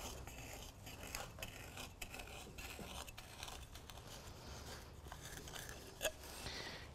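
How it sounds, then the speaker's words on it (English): A margin trowel lightly cutting and scraping the surface of a freshly cast concrete chair, giving faint, continuous gritty scraping with a few sharper strokes. "Just using a margin trowel, I'm going to lightly kind of cut the surface here."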